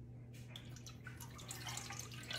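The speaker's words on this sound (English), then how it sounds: "So let's go ahead and pour in the milk." Milk pours into a bread pan for cinnamon sugar bread, a soft, close trickle and splash of liquid with small dripping accents over a faint steady hum, lasting a couple of seconds with no talking.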